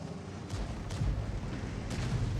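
Tank guns firing in World of Tanks during a tier 10 battle, a few dull distant booms over a heavy low rumble of engine and battlefield ambience.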